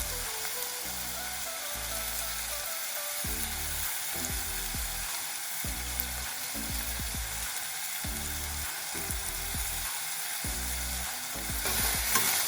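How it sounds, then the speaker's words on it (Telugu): Chopped green chillies sizzle and fry in a pan for a bitter gourd and jaggery curry, a steady close crackle broken by repeated scraping stirs in an even rhythm, with no talking. "ఇందులో ఇప్పుడు మనము ఒక 5 పచ్చిమిరపకాయలు తీసుకున్నాం కదా అండి, అవి కట్ చేసుకొని వేసుకున్నాం."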